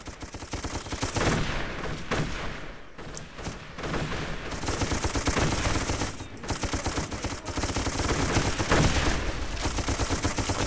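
Sustained machine-gun and rifle fire from the shooter Darkest of Days, rattling bursts layered over a steady din of battle, loud throughout with a brief lull near the third second.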